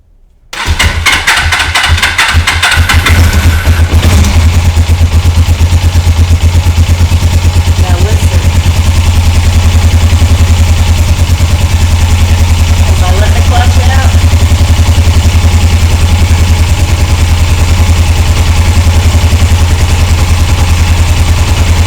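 A Suzuki GS450L motorcycle engine starts and settles into a loud, steady idle with a continuous low rumble, running close by throughout.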